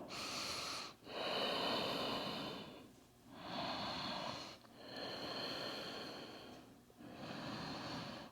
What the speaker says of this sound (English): Good, nice fluid breathing.